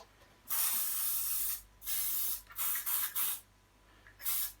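A lubricant aerosol sprays onto stroller wheels in about five short hissing bursts of varying length, separated by brief pauses, close and clear.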